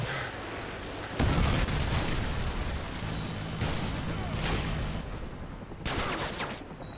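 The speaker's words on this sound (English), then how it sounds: "Friendly Predator missile inbound." A Predator missile strike in Modern Warfare 2 on PC, during team deathmatch on the Terminal map, sets off booming game explosions and crackling gunfire bursts, fairly quiet overall, with the strongest blast early and another near the end.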